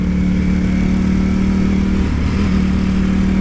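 A Ducati Panigale V4 S motorcycle rides in second gear on the road, its engine giving a loud, smooth, continuous drone close to the rider with no speech.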